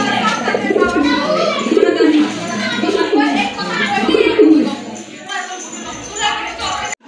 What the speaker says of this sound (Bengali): এটা হচ্ছে আপনার গ্রেবার লাহোরি কবুতর, খুবই চমৎকার